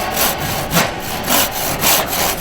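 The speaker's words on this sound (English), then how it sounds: "just pulling the saw back and starting the cut off" A hand saw cuts a mitre in wooden architrave moulding on a carpentry bench, with loud, close rasping strokes that repeat in an even back-and-forth rhythm.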